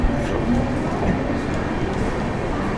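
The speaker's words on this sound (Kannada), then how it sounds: "Dadar railway station." Continuous rumbling of a train at busy Dadar railway station in Mumbai, a steady loud wash of rail noise with no clear pauses.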